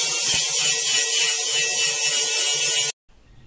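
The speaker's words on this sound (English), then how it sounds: "If there are any high spots, I just grind them down until the frame fits." Grinder taking high spots off a metal frame so it fits into a hole in a container: a loud, continuous harsh whir that runs steadily for nearly three seconds, then cuts off abruptly into quiet.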